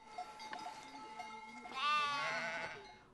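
Sheep on a farm bleat in a wavering burst that swells midway and tails off, set over faint background farmyard noise with no talking.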